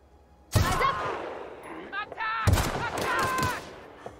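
Sniper rifle shots in The Outer Worlds, a PC game, two sharp loud cracks about two seconds apart, each with a ringing tail, against a quiet background.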